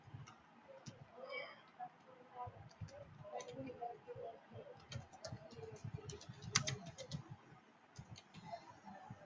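Someone talks while typing on a computer keyboard. The keystrokes are faint, light and irregular, tapping along underneath his speech.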